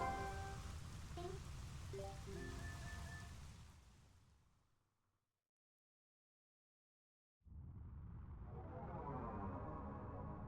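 Rain in the Twilight Princess HD video game, a steady broadband hiss of falling drops that cuts out completely for a few seconds and then returns at the same loudness. Some tonal game sounds ring over the rain at the start.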